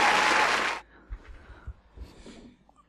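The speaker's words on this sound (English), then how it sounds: "And then I put some applause" A brief burst of crowd applause sound effect, loud and dense for under a second, then cutting off abruptly into near silence with a few faint low thumps.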